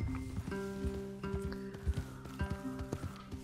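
Horse hooves clip-clop in Red Dead Redemption 2, a few close, uneven steps with a soft, muffled thud, alongside steady tonal hum from the game's soundtrack.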